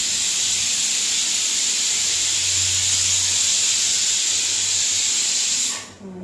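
A kitchen pressure cooker releasing steam in a loud, steady close hiss that holds for nearly six seconds before abruptly cutting off.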